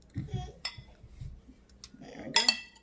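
Stuffed pepper filling with sugar in it being mixed in a bowl with a utensil, giving a few soft clinks and scrapes against the dish, close by, with brief talking.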